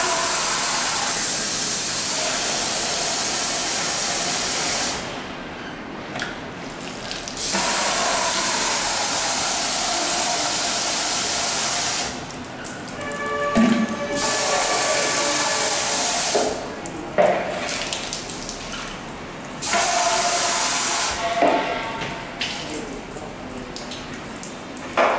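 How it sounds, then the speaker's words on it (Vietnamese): Water sprays steadily in long bursts across a stone floor near a washbasin as it is rinsed clean, a loud continuous hiss that stops and restarts several times with short quiet gaps. "Bước thứ ba, xả nước làm sạch sàn đá."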